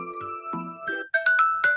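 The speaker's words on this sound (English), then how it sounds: "Dream Chimes." Samsung phone ringtone Dream Chimes: a short sequence of bright chime notes ringing with sustained tones, the later strikes louder and shimmering, heard alone.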